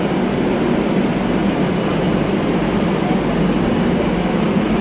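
A train rolls through a station in Spain with a continuous loud rumble and roar that stays steady throughout, close and filling the scene.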